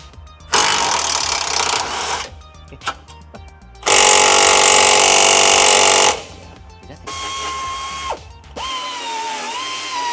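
A new stubby ratchet wrench is tested during work on a 2005 Honda Accord, giving loud, close, buzzing mechanical bursts of about two seconds each, separated by quieter clanks and pauses.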